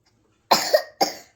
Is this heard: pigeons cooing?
no